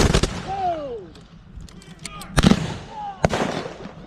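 A musket volley from Civil War reenactors at a train raid reenactment in Walkersville, Maryland: several loud, sharp cracking reports in quick succession, with shouted voices between the shots.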